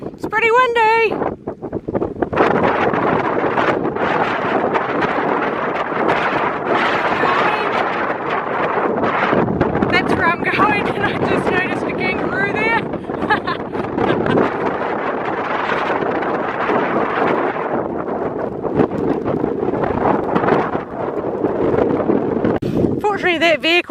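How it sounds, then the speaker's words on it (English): Strong wind buffets the microphone on the Heysen Trail, a constant roaring rush with gusty surges. "It's pretty windy."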